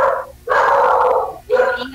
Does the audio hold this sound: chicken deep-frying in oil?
no